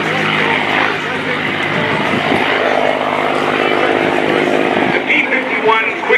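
P-51D Mustang "Quicksilver" propeller fighter flying at the 2016 NAS Oceana airshow, a loud, continuous engine-and-prop roar that stays steady throughout, with an announcer talking over it.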